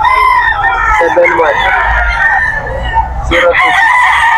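Roosters crow loudly and repeatedly, close by, among chickens brought in from a farm at a cockfighting venue in Bocaue, Bulacan, with a voice talking over the steady calls.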